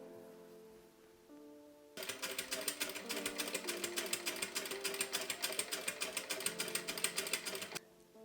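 A sewing machine top stitches a folded hem on a front tie top, starting after a quiet pause and running in a fast, even mechanical patter for several seconds before stopping, close and alone.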